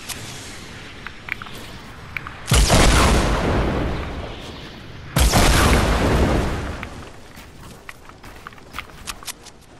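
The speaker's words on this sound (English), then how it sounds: "Rockets on us." Two heavy rocket blasts hit close by in Fortnite, each a sudden loud boom with a long rumbling decay. They come about three seconds apart, with scattered footsteps and small clicks between them.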